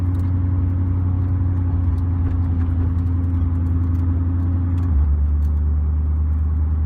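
A Koenigsegg Regera's engine runs at an even RPM, a steady low drone close by that shifts slightly in pitch near the end.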